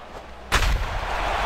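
Bat strikes the ball in MLB 2K5 World Series Edition, a '04 Yankees vs '04 Red Sox game: one sharp, loud crack followed by a sustained burst of crowd roar.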